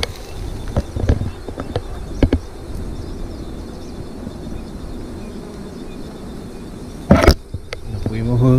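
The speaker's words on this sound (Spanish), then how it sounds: "Miren las avispas, las abejas." Wasps and bees buzzing outdoors at an ecological reserve pond, a steady faint insect drone with scattered clicks and a louder knock near the end.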